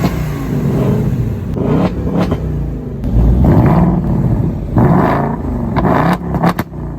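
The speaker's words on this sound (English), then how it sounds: "you can hit unlock and lock again, and it'll re-rev it for you." A 2024 Ford Mustang GT V8 revs up by itself on remote unlock, giving several loud, close throaty blips and rumbles with short pauses between them.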